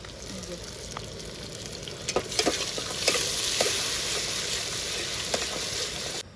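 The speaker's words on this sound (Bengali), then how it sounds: "পেঁয়াজটা ভাজা হয়ে গেছে" Chopped onion with ginger-garlic paste frying in a pot at an outdoor riverside picnic, a steady broadband sizzle with scraping stir strokes and utensil clinks throughout, close and fairly loud.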